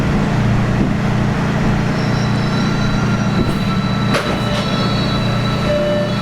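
MBTA Red Line subway train pulling into JFK/UMass station, a loud, steady low rumble of rolling cars with thin high wheel squeals and a brief sharp metallic clank partway through, with no voices.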